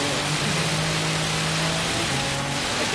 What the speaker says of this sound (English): Why does the rain noise keep coming and going?